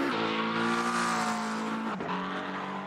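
Race cars at top speed on the Miami Grand Prix straight, around 160 to 165 mph, give a loud, sustained high engine whine that drops in pitch near the end as they pass. No one speaks.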